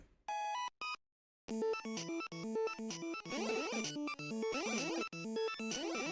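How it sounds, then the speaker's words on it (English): Bright, chirpy frog sound from the Game Boy game Hudson's Adventure Island, electronic tones tumbling over one another in rapid, busy bursts after a couple of short blips and a brief pause; loud and close. "So that's the sound of the frog, apparently."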